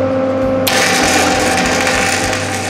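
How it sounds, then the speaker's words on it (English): A tack weld is struck on a home-built steel dumbbell rack, a loud crackling hiss that starts abruptly and sizzles steadily up close for a couple of seconds. "let's do some welding"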